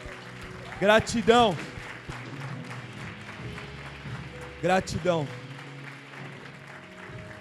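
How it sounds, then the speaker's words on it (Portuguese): A church congregation claps in a steady, moderately loud wash of applause, while a voice speaks briefly twice over it. "Vamos dar uma salva de palmas para eles também"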